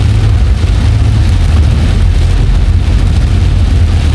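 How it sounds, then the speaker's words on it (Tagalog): Heavy rain pours down during a drive, a dense, loud and constant roar of water against the vehicle with a low rumble of the car underneath and no break throughout. "malakas ang ulan."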